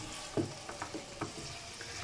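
Chicken quesadilla filling cooks in a pan, giving a faint, soft frying crackle with a few light stirring or scraping knocks.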